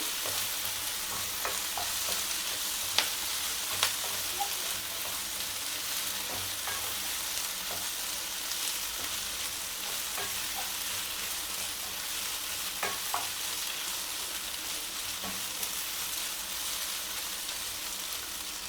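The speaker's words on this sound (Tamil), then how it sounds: "இப்போ தக்காளி சேர்த்துக்கலாம் ரெண்டு தக்காளி எடுத்து வச்சுருக்கோம் பொடிசாக கட் பண்ணி வச்சுருக்கோம்" Finely chopped medium tomatoes fry in a pan for squid gravy, with a continuous close sizzle and repeated scraping stirs and utensil clicks throughout, with no talk.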